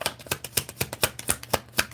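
Tarot cards being shuffled by hand, with about ten crisp, evenly spaced riffling slaps in a steady rhythm, loud and close, with no voices.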